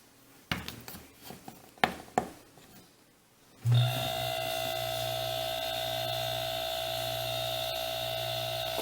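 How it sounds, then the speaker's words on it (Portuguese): An improvised, makeshift air compressor driven by a high-speed electric motor starts up after some knocks and handling sounds, then runs as a loud, steady mechanical hum with a constant whine that continues to the end. "o barulho é muito grande, aquele motor, que é um motor elétrico de alta rotação"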